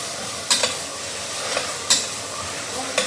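Vegetables sizzle in a hot spice tempering for weight-loss daliya, a steady close frying hiss broken by a few sharp stirring scrapes at irregular intervals.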